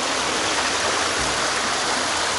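The Furnas waterfall and stream at Vila Nova de Milfontes, Portugal, roar as a dense, continuous rush of falling water. The sound is loud and close, with no voices.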